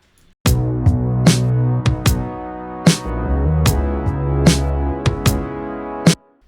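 A bright, brassy, open synth bass plays over a deep sub bass in a slow pop production, with repeated punchy note attacks forming a steady, loud, sustained line with no voices.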